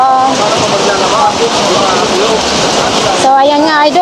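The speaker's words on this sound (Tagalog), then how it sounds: "Umuulan na." Rain falls steadily on a wet market stall where a vendor's goods are laid out, a dense continuous hiss of drops under a voice talking throughout.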